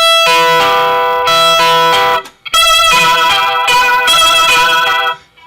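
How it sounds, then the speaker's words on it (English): Sustained electric guitar notes swirling through a rotating speaker, with a warbling, pulsing shimmer, loud and close, a brief pause in the middle. "just three simple notes I'm playing just change a lot just by having a nice little Leslie cab on there"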